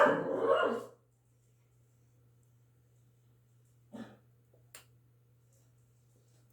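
A dog lets out a short burst of loud, close barking right at the start, then falls silent, leaving only a steady low hum and a few faint clicks.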